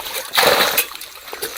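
Water splashes loudly in a short burst over rocks in a stream, then settles into lighter sloshing and trickling, close by with a faint voice in the background.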